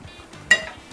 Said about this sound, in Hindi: बस इसको अच्छे तरीके से हमने यहाँ पर जो है ना सिजल करना है प्याज को